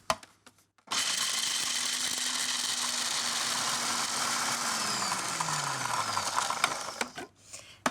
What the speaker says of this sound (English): I'll place the pistachios into the food processor, lid goes on, and I'm just going to blend these until they become a fine crumb.